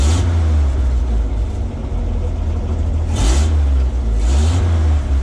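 A 1937 Chevy car engine runs at a loud idle and revs up twice in short bursts, the throttle blips rising sharply over its continuous rumble.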